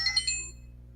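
A cell phone notification chime plays a short bright tone pattern in the first half second, then fades out over a low steady hum.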